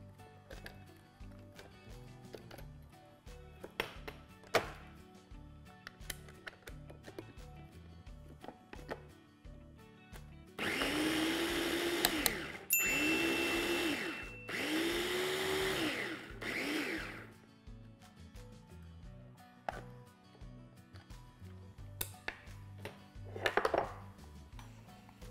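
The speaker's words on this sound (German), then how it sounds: "Die werden klein gehackt." Button mushrooms are finely chopped in a food processor, with scattered knocks and clatter broken by several loud bursts of whirring blades in the middle, and no talk.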